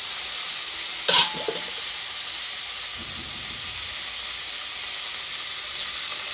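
Steady hissing sizzle of boiled potatoes frying in hot mustard oil, with a sharp clatter early on and a brief scrape later; close and continuous.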